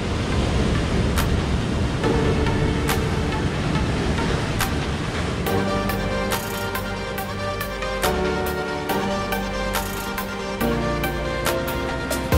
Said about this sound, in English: get the water receding and obviously the water coming in from the ocean